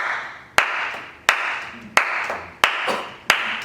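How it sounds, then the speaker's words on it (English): Hand claps accompanying pizzica, a southern Italian folk dance, played without tambourines: five sharp, loud, evenly spaced claps, each followed by a fading room tail. "when you're accompanying pizzicas without tamburellos, they would clap twice"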